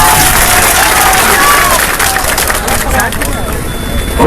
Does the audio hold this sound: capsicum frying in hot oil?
no